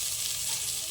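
Tomatoes frying with spices in hot oil for a soybean dish, giving a brief, dense, continuous sizzle heard close and alone.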